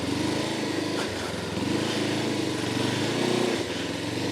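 A heavy motorcycle's engine runs steadily and close by, a continuous low rumble with slight rises and falls in revs and no voices.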